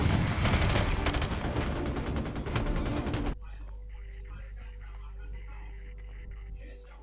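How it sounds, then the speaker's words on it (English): Call of Duty 4 house ambush: a dense burst of rapid gunfire fills the first few seconds, then cuts abruptly to a low droning hum and faint ringing, like the muffled aftermath of a flashbang, with no clear speech. "we ambush him with a good old flashbang"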